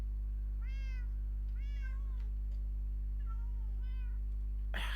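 A cat meows in Minecraft, giving four clear, drawn-out meows spaced across the stretch over a steady low hum, followed by a sharp burst of noise at the end.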